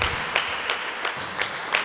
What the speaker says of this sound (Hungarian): vendégcsapat szurkolók sportszerűen megtapsolják mindkét együttes